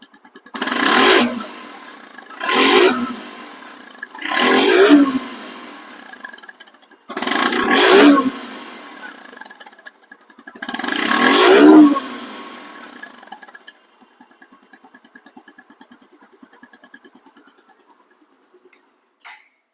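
A 2023 Suzuki Gixer motorcycle engine fires up and revs in five loud, separate bursts, each rising and falling back, then settles into a quiet, steady idle with no talking.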